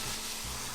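Egg mixed with whole milk sizzles on a Nostalgia MyMini electric griddle, a steady, close hiss of frying with no talking over it.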